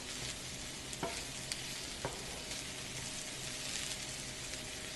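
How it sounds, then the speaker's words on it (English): Vegetables sizzle steadily in a hot pan for vegan fried rice, with a constant frying hiss broken by a few sharp scrapes and knocks as they are stirred. "I just keep moving it around so that it doesn't stick to the pan"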